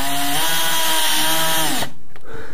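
A power screwdriver drives a screw through drywall into a metal profile, giving a loud, steady whining motor run that stops abruptly, followed by a brief quieter pause.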